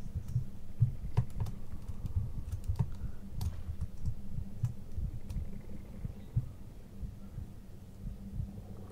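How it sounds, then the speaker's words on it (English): Minecraft conduit ambience, with a soft low throbbing heartbeat pulse and faint breathy whooshes, mixed with scattered keyboard clicks; no talk. "this conduit makes breathing noises"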